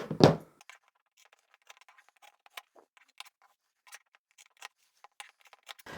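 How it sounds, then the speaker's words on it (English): Scissors snipping through stacked layers of fabric for a scrap-fabric bag, a string of quiet, sparse cuts after one louder knock at the start, close and otherwise silent. "And I'll cut those out at the same time."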